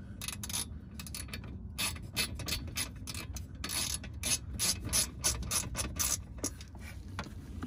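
A hand ratchet tightens ignition cylinder bolts on a 2000 Jeep Cherokee XJ, giving bursts of quick clicking strokes with brief pauses between them, close up and without talk.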